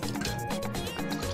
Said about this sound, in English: add about a quarter of water too